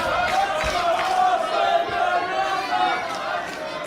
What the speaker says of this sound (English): you hear that's still a very split crowd here